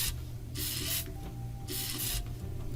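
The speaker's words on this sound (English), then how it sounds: "Now let's not forget to paint this thing" Two hissing spray bursts of paint being applied to a part in the building game Scrap Mechanic, each lasting about half a second with a short pause between them, close and fairly loud, with no talk.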